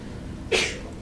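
One quick sneeze bursts out partway through a quiet moment in a math lesson, brief and sharp against faint room tone.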